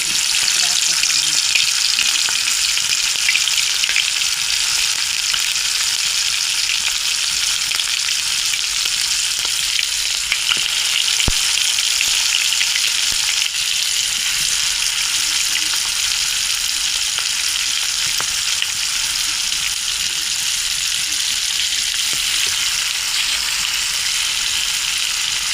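Marinated chicken leg pieces fry in hot oil in a wok, giving a loud, steady sizzle that holds evenly throughout with no one talking.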